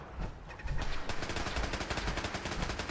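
Enemy gunfire rattles in Fallout 4, rapid automatic bursts of shots in a steady, loud stream lasting a few seconds.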